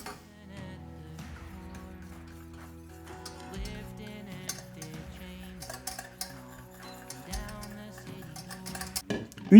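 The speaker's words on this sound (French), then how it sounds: "Et on vient chauffer en mélangeant jusqu'à épaississement." A whisk scrapes and clinks against a saucepan as pastry cream is stirred over heat, a quiet irregular ticking of metal strokes over soft background music.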